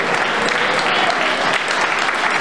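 Dense, steady applause from a crowd of political supporters, continuous and fairly loud throughout with no voices standing out.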